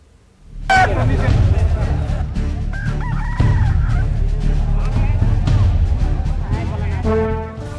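Roosters at a village cockfight in rural Jharkhand crow and cluck loudly over a busy background of crowd murmur and voices, starting abruptly and running continuously.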